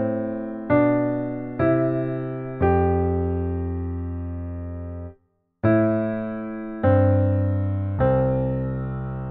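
A chord progression stripped to melody and bass only, played on a keyboard: sustained piano-like notes struck one after another, with a brief full silence midway before the phrase resumes, clear and alone.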